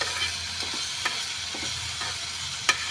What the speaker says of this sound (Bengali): দেখো, ভাজাটা আমার হয়ে গেল।